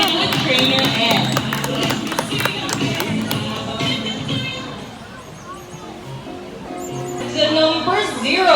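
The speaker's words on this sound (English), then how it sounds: "Give a round of applause for bandit with trainer M." Audience applause and scattered cheers at a sea lion show at Manila Ocean Park, a dense crowd clapping throughout with a voice speaking over it, the noise dipping briefly midway before swelling again near the end.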